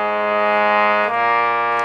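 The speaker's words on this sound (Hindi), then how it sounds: "आप देखिए, ये अपन हारमोनियम का मंदर सप्तक," A harmonium held in its low octave, a thick, rich sustained chord with a brief dip near the middle before it resumes, played alone.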